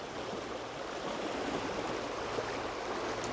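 Steady rushing of flowing stream water, a continuous broadband wash with no pauses, close and moderately loud throughout.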